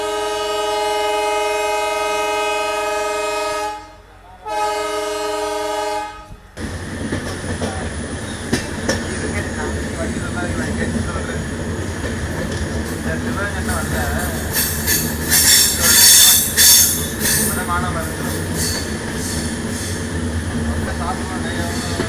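A passenger train on its first daily run in 19 years moves along the track after a station stop. Wheels squeal and rumble loudly, with a rhythmic clatter and a strong screech midway. A steady tone opens the passage, and indistinct voices sound beneath it.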